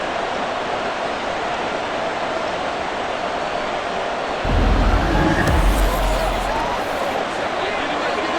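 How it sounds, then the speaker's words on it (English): Stadium crowd in the Madden NFL 24 football game, Dolphins versus Patriots, a steady roar of distant shouting that swells louder for a few seconds midway, then settles back into a constant wash of noise. "Plenty of shouts from this crowd as they watch the replay."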